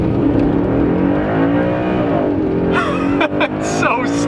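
A car in automatic mode accelerates hard, its engine droning steadily and loud with rising pitch, then briefly breaks off for a gear change before pulling on again.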